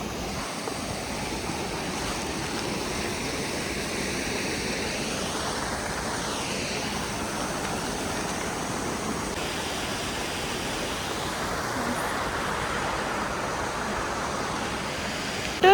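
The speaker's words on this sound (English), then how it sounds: "There are 2 waterfalls on the way to Upper Dowan." Steady broadband rush of a waterfall beside a mountain trail on the trek to Upper Dowan in the Annapurna region of Nepal, continuous and fairly close, with no voices over it.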